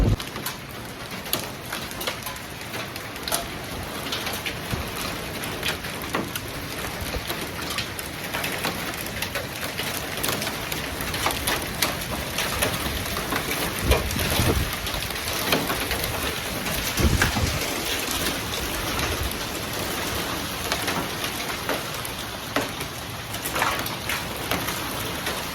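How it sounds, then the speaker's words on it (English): Hail falling during a storm in El Paso, Texas, a steady, dense patter of small impacts on surfaces with scattered sharper ticks, moderately loud and continuous throughout. "You guys, it's hailing."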